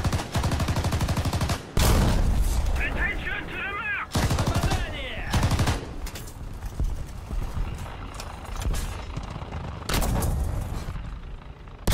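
Large bombs dropped in the War Thunder combat game explode in several loud, heavy blasts, separated by bursts of rapid gunfire and rumbling battle noise.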